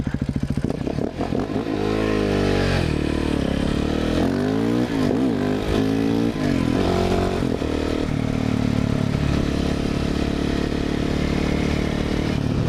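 A KTM 690 SMC R supermoto with an aftermarket exhaust revs and pulls away, its engine note rising and falling through gear changes before settling into a steady, loud drone close by.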